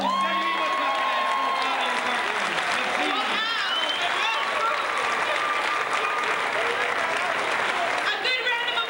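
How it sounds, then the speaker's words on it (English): Audience applause for a dancing couple, Jeff and Elena, with cheering, fills the room, dense and steady throughout, with voices in the crowd. "A good round of applause for Jeff and Elena."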